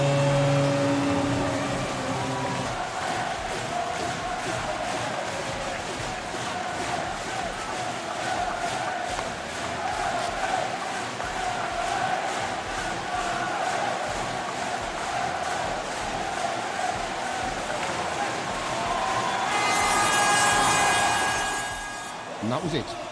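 A noisy, passionate ice hockey crowd at a Cardiff Devils game roars in a steady, dense wash of cheering, swelling louder near the end, with a voice speaking over it.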